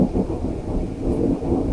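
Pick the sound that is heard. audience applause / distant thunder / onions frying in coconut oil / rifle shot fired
distant thunder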